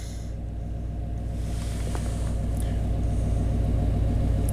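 A 1991 Chevy K1500 engine idles with a lean misfire, a steady low rumble with an uneven, stumbling pulse that holds close and constant throughout, with no talking.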